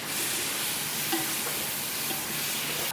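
Masala and tomatoes sautéing for mutton dalcha, a steady dense sizzle filling the whole stretch with faint stirring scrapes underneath, close and fairly loud, no talking.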